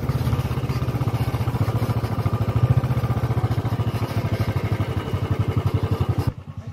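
A Royal Enfield Classic 350 motorcycle being ridden, its single-cylinder engine thumping in a steady rapid pulse, loud and close, then dropping off abruptly near the end.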